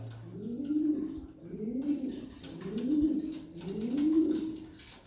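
Military and homer pigeons coo in four slow, rhythmic calls at close range, with faint background noise.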